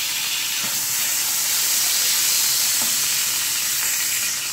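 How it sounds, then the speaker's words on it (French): Butter and oil sizzle in a frying pan with a loud, continuous hissing crackle, close up and with no talk. "je vais mettre à peu près une cuillère à soupe de beurre. Je vais ajouter une cuillère à soupe d'huile pour que le beurre ne brûle pas."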